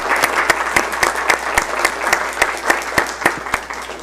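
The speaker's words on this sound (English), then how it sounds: "a lot of people here, so they could clap for you" An audience at a city council meeting breaks into applause, a dense steady patter of many hands clapping with a few louder, sharper claps standing out, continuing throughout.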